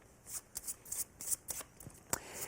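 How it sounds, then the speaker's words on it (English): A deck of playing cards is slip shuffled up close, giving a quick series of crisp riffling snaps and flicks, quiet and with no talking. "you shuffle using that same slip shuffle so that the queen stays on the"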